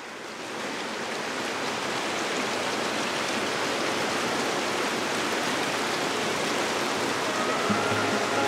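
Crystal-clear water flows in a stream in the Jánošíkove Diery gorge in November, a steady, dense rushing wash close by with no voices.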